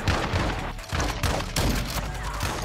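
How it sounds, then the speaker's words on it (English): A shotgun fires in a shooter video game with a few loud, booming blasts spaced roughly a second apart, each followed by a short rumbling tail. "This is the shotgun, kid."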